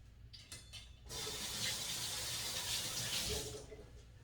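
Tap water runs steadily into a kitchen sink for hands being washed, a broad hiss starting after a second of quieter room sound and easing off near the end.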